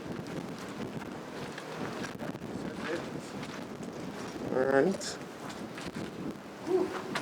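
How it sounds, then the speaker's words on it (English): Wind gusts buffet the microphone on a breezy day at an apartment building site under construction in Portmore, a steady rough rush with a few stronger swells beneath people talking. "windy day, you know?"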